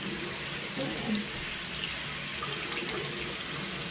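Water running steadily from a bathroom tap while it warms up, a continuous close rushing splash with no pauses, alone throughout.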